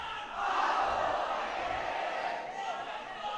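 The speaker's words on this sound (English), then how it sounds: "And yes, we see the cheer." Spectators at a schoolboy cricket match cheer together in a broad, sustained roar that swells, holds, then eases, sounding fairly distant across the ground.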